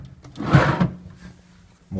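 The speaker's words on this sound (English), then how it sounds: "More drawers with nothing in them." A hotel-room nightstand drawer slides with a short wooden rumble and bump, then quiet before someone starts speaking.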